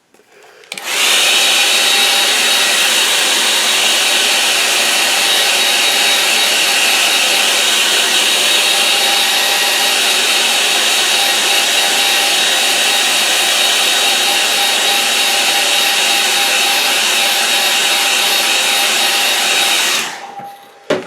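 A hair dryer blows steadily on a damp watercolour painting of a snowy lane, a loud, even whirring hiss switched on and running unbroken for about twenty seconds before cutting off.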